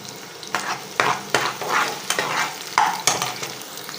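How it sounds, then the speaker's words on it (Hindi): Sliced onions fry in hot oil for a bhindi masala, a loud close sizzle broken by repeated scraping stirs about every half second, with no talking. "तेल अच्छी तरह गर्म हो जाए तो प्याज डालनी है और इतनी देर तक रख से पकाना है"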